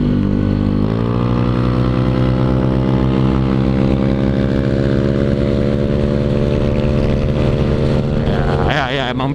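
A modified scooter-style motorcycle with an aftermarket exhaust and CVT tweaks revs hard, a loud close engine whose droning pitch jumps early, then climbs slowly and holds a sustained high whine before a brief change at the end.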